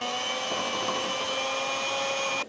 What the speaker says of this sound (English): we need to get our mixer, and we're gonna try not to make a mess while mixing these